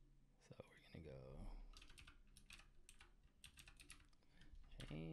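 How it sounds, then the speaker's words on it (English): Rapid clicking of a computer keyboard, typed in short bursts, close and fairly quiet, with a soft voice talking in between. "we're going to go ahead and type out our words here"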